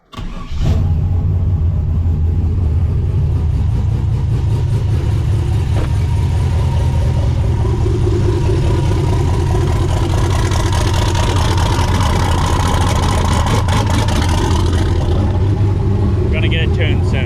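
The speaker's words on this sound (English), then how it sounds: "We gotta fire up the SS truck, which haven't done in a week or so." An SS truck engine fires up abruptly and then idles loudly and steadily nearby with a deep rumble, as voices talk over it.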